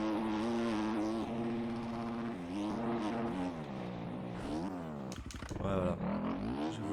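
A motocross bike in the MX Bikes video game runs at full throttle, a loud, buzzing engine note that rises and falls through gear changes, with someone talking over it.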